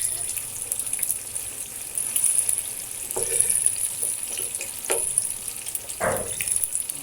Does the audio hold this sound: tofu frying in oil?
yes